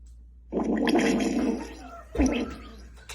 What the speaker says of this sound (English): make a fart noise.